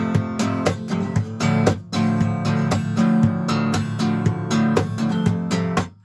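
Acoustic guitar chords strummed in a steady rhythm with sharp percussive slaps marking the beat, played solo and fairly loud.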